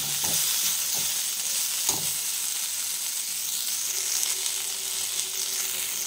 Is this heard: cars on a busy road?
no